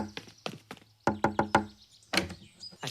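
Knocking on a door: a few light raps, then four loud, evenly spaced knocks, and one more knock after a pause, close by with no talk.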